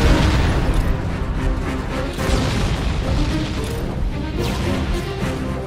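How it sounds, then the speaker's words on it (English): A grenade explodes in Halo CE, a loud booming blast with crashing debris that fills the whole stretch and stays dense and heavy without letting up, with no talk over it. "There's the fucking grenade that came out of nowhere and just exploded"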